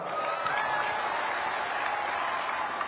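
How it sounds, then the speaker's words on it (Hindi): Sustained applause from a rally audience during a speech by PM Modi in Assam: an even, steady roar of many hands clapping, with no speech over it. "हो जाए ताली आज आपके नाम पर"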